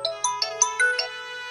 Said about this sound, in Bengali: বাইরের থেকে ফোন দিছে